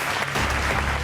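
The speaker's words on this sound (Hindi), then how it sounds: "आप आई हैं तो तालियों में जोर ज्यादा था।" Studio audience on a Pakistani talk show bursts into loud, sustained applause to welcome actress Sana Nadir, dense clapping filling the whole stretch without pause.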